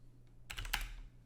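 Brief burst of typing on a computer keyboard at a desk, a few quick soft key clicks close to the mic over a low steady hum, with no speech.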